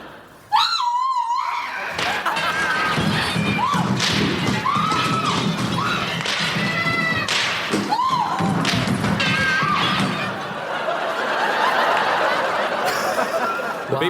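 A BBC comedy sound effect of an orgy plays: a busy burst of thumps, slaps, squeals, giggles and chuckling voices crowding together, loud and continuous for about fourteen seconds, with no narration over it.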